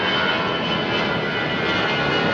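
An Emirates jet lines up on the runway at London Heathrow, its engines giving a loud, steady roar that fills the whole stretch without a break.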